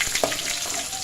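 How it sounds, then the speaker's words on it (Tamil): Dried chillies frying in hot oil for a tamarind rice dish, giving a steady broadband sizzle with a couple of brief pops near the start, close and fairly loud throughout. "மிளகா கொஞ்சம் நம்ம எண்ணெயில் முதல்ல ஃப்ரை பண்ணிக்கலாம்."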